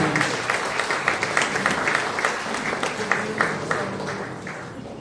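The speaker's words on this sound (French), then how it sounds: "Je pense qu'on peut nous applaudir tous pour la présence." Guests at an award ceremony in Brussels clap, a moderate room of individually audible hand claps forming loose, uneven applause at medium loudness.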